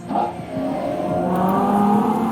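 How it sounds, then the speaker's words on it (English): A Ferrari Purosangue SUV's V12 engine revving and rising in pitch, loud and close, a smooth sustained roar climbing steadily. "Part of that is down to the monster V12, the astonishingly quick gearbox and the epic sound"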